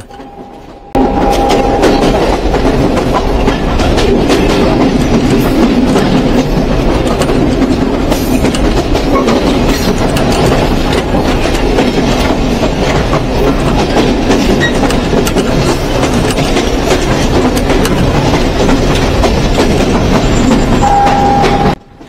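A Benapole to Mongla commuter train rolls steadily along the rails with a loud, continuous rumble and rhythmic clatter of wheels, close by, with no voices.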